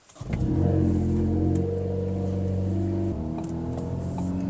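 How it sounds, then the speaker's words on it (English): A Ford Focus ST starts close by. The engine catches with a quick burst, rises to a brief rev, then eases into a steady idle that dips once more. "Let's fire it up, take it for a ride, warm it up for our oil change, shall we?"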